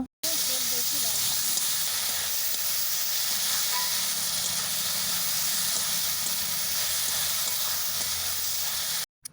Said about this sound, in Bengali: আদা রসুন দেওয়ার পর ভালোভাবে আবার নাড়াচাড়া করে ভেজে নেব